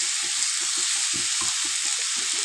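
Vegetables and plenty of onions frying with spices in a pan for fried rice, a loud, dense, steady sizzle with a rhythmic series of stirring scrapes underneath, close up.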